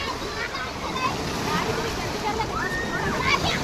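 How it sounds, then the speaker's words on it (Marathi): Sea waves washing and sloshing on a beach, a continuous broad surf noise with soft splashes, mixed with faint voices nearby. "लाटा बघा कसले भारी एकदम."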